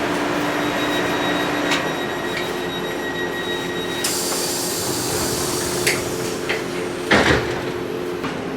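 On board a class 150 train in LNWR livery, a steady loud rumble of wheels and carriage fills the space, with faint high squeals and occasional knocks and rattles, and no voices.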